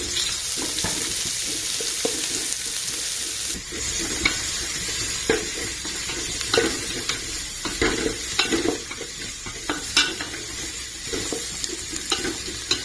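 Garlic sizzling in hot oil in a pan while being stirred, with repeated scraping clicks of the utensil over a steady frying hiss, close and fairly loud, no talking.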